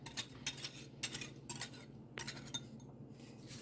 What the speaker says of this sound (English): I'll mix this all properly so all combine.